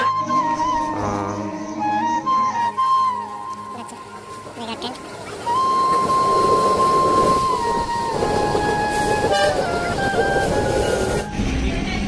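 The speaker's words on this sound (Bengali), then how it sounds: "এত সময় অপেক্ষার পরে ট্রেনটি আসতেছে" A train pulling into a station, with a long rising horn tone, rumbling wheels and rail clatter building in loudness, under a crowd murmur and occasional voices.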